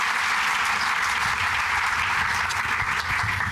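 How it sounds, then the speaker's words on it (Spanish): A studio audience at a televised Chilean political debate applauds a candidate, a dense, even wash of clapping that holds steady throughout with no talk over it. "Un aplauso ahí al candidato"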